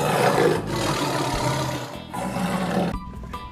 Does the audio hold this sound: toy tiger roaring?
yes